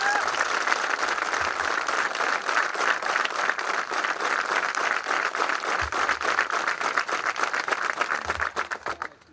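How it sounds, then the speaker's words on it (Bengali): Loud, dense applause from a large crowd at a military passing-out parade and cultural ceremony for new border guard soldiers, sustained clapping for several seconds before tapering off at the end. "তাদের জন্য একটা জোরে হাততালি"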